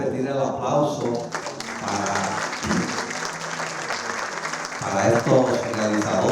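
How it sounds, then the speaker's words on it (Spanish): Audience applause at a film screening for the filmmakers in attendance, steady clapping throughout with a voice speaking over parts of it. "Sí, yo creo que merece repetir el aplauso"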